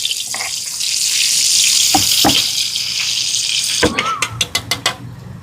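Balisawsaw frying for the second time sizzles and crackles loudly in hot oil for several seconds, then a few clattering knocks and scrapes of utensils follow near the end.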